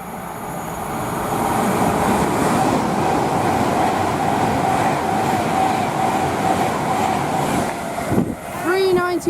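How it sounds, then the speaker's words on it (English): A Manchester Piccadilly to London Euston service runs through Rugby station on the West Coast Main Line, a loud close rumble of wheels and engine that builds in, then stays steady, and ends with a brief squeal and a burst of chirping at the end. "we've got a service from Manchester Piccadilly to London Euston"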